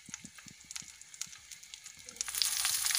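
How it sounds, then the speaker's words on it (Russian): Meat fries in olive oil in a pan, starting as soft scattered crackles and pops, then swelling into a louder, steady sizzle near the end. "И обжариваю 3 минуты с каждой стороны"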